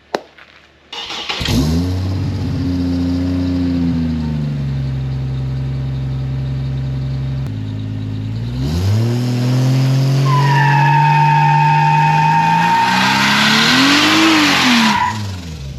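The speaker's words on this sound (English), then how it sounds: "let's go ahead and do a little burnout, get an exhaust clip" A turbocharged Chevrolet Trailblazer engine idles loudly, then revs up into a long, high tire squeal as the wheels spin in a burnout, the exhaust roaring and climbing in pitch throughout.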